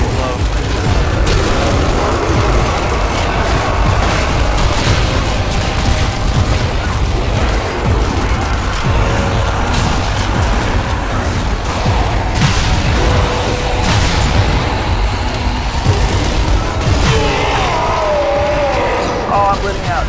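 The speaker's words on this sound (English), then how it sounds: "there's machine gun guys down below" Dense, continuous gunfire and booms fill a Nazi Zombie Army co-op firefight in a cathedral, loud and relentless throughout, with players talking over the shooting.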